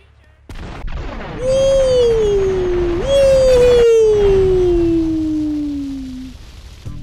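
A sharp blast hits in GTA III Definitive Edition, followed by a long descending whine and a second boom, fading out over several seconds; loud and close.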